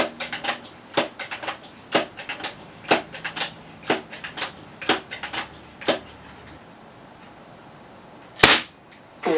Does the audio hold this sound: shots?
yes